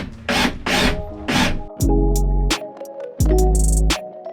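Drill driver screwing drywall into wall studs during a bathroom renovation, with bursts of whirring motor and two longer low grinding runs as screws bite in, loud and close.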